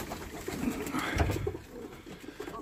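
Soft, low cooing of several racing pigeons shut in a loft, overlapping murmurs with a steady background hum.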